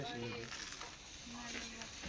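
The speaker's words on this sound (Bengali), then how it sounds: "গরম গরম বেগুনি এখন ভাজা হয়েছে ওই যে চাচি ভাজতেছে দেখছেন" Oil sizzles steadily as eggplant fritters fry, a soft continuous crackle with faint voices in the background.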